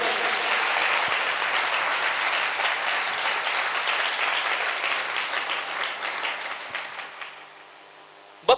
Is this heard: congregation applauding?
yes